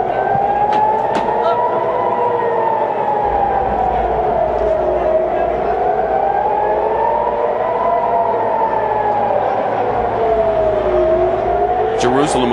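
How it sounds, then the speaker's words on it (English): An air raid siren wails, rising and falling in slow, steady cycles throughout, loud and continuous, with background noise and faint voices underneath, in Israel. "You can hear the air raid sirens in the background."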